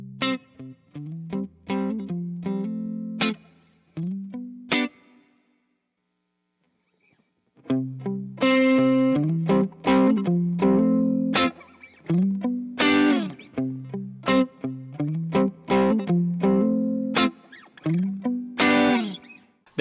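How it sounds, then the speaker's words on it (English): An electric guitar played through an Origin Effects Halcyon overdrive pedal on its 808 setting, with the adapt circuit off, gives loud, close, mid-heavy overdriven chords and riffs, broken by a roughly two-second silent pause. "On the 808 setting and with the adapt circuit turned off, you get that classic 808 mid-range honk."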